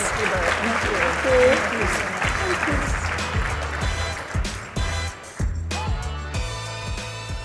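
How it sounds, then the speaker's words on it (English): Conference crowd applauding a keynote speaker at an early childhood education event, a dense sustained wash of many hands clapping that swells near the start and thins toward the end, with music and voices mixed in. "Please give her another round of applause."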